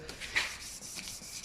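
Soft, wet rubbing strokes of wet sandpaper on a car headlight repeat back and forth, a quiet gritty scrubbing close by, faint and low in level.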